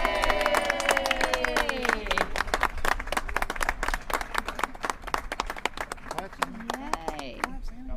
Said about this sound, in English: Clapping a little late, but he's clapping.